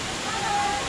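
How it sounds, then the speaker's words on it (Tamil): Aagaya Gangai waterfall in the Kolli Hills, a steady broadband rush of falling water that sounds close and loud and fills the whole moment without a break. "இதான் வந்து ஆகாய கங்கை நீர்வீழ்ச்சி"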